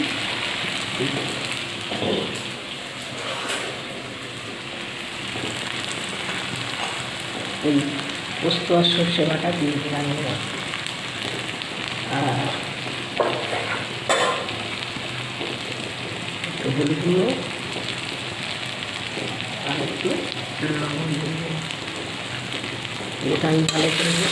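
Onion, tomato, a green chilli, a bay leaf and ginger-garlic paste sizzle steadily in hot oil for a Bengali bhangon fish jhal, a constant rain-like crackle with occasional stirring and a voice talking over it.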